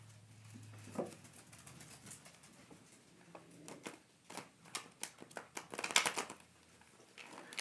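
A deck of tarot cards is shuffled by hand, with quick riffling bursts and soft flicks of cardstock that grow busier and denser toward the end, close by and fairly quiet, with no talking.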